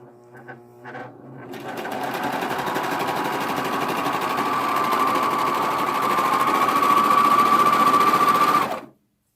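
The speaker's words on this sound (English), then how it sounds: "I'm going to pull it taut and I'm going to sew it, but I'm not going to sew my elastic." A serger stitches elastic onto a knit skirt in a long, steady, close whir lasting about eight seconds, rising slightly in pitch toward the end before cutting off, with a few soft handling sounds just before it starts.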